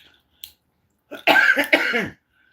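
A woman coughs in a short burst of a few harsh, close coughs after a faint earlier throat sound, loud and alone with no talk over it.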